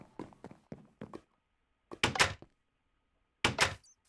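Wooden doors in the Minecraft video game bang open and shut in a series of short knocks, a quick cluster early on followed by two louder double clacks, each separated by silence.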